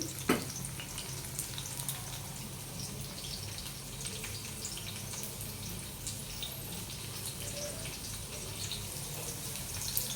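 Bitter gourd slices frying in hot oil give a steady, close sizzle with faint spattering crackles and one sharp tap near the start, with no talking.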